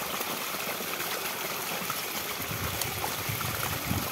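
Water from a farm borewell motor pump gushes out into a field channel, a continuous close rushing and splashing flow with no talk.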